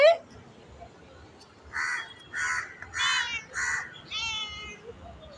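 A cat meows several times in a row, short nasal cries about half a second apart, over a steady low background murmur.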